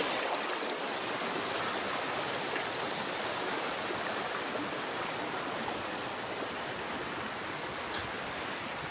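A river stream rushes steadily, a constant broadband hiss of flowing water with no voices.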